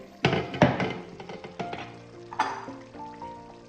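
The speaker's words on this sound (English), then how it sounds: "I'm frying on medium to low heat" Nigerian chicken stew frying in a pot on medium-low heat, with a spoon knocking and scraping against the pot in several sharp clanks over a soft background sizzle, close by and without talk.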